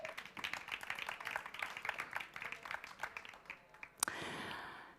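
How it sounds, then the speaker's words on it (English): A conference audience gives a round of applause, steady clapping for about four seconds that fades out, followed by a brief thump and a sigh close to the microphone. "Please give them a warm hand and an applause."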